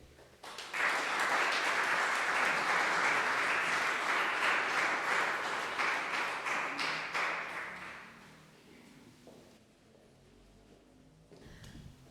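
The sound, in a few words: audience applause for poets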